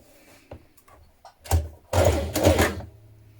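A sewing machine stitches the underarm seam of a 1970s-style summer dress made from Simplicity pattern 8013, running in short mechanical bursts that grow longer and louder, with brief pauses between them.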